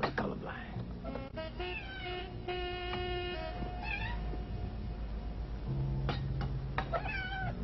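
A cat meows repeatedly in short, pitched cries, some stretched into a caterwaul, close and clear, with people talking over parts of it.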